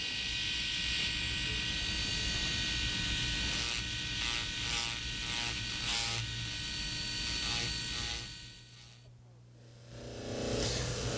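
A rotary dental lab handpiece grinds down an undercut ridge on a removable partial denture, giving a loud, continuous high whine that dips briefly partway through and then returns.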